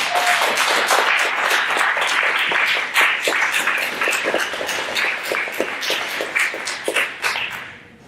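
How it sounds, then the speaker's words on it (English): Round of applause from an audience for Shannon Brown, the community engagement coordinator, at a community talk event: dense, steady crowd clapping throughout, loud and close, tapering off at the end. "I think we owe her a big round of applause of our gratitude"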